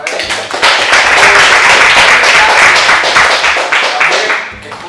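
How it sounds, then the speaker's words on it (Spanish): An audience at a talk on Studio Ghibli and its impact on cinema breaks into loud, sustained applause, dense clapping that swells quickly, holds steady for several seconds and then fades out. "yo pido un último fuerte aplauso para él"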